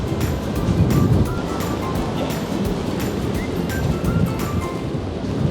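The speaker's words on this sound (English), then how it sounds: "it's crazy windy outside" Strong wind blows outdoors, a continuous loud rushing roar buffeting the microphone with gusty surges throughout.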